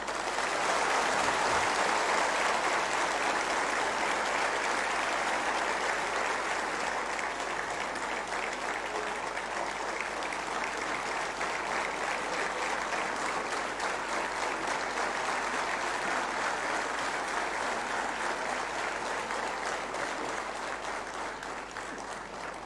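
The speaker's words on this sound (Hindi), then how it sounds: "उसके लिए तालियां कमजोर थीं।" Sustained audience applause at a public event honoring Rivaba Jadeja; dense, steady clapping from a large crowd fills the whole stretch, loud throughout and easing slightly toward the end, with no talking over it.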